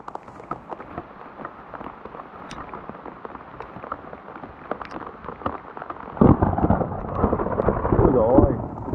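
Rain falls in a forest with a sparse patter of drops, then a deep, loud thunder rumble rolls in during the last few seconds and grows heavier before fading slightly.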